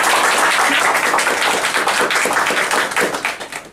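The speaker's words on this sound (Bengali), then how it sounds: "সবাই সবার জন্য আমরা একটা করতালি দেব" A group of students in a class gives a round of applause, dense, close clapping from many hands that holds steady, then thins into scattered claps as it tapers off.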